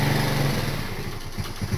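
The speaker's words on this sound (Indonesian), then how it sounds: "Terdengar suara motor berhenti di depan rumah Pak Rohmat." A motorcycle pulls up and stops in front of a house, its light engine buzzing loudly and close, then settling toward a lower idle with uneven putters near the end.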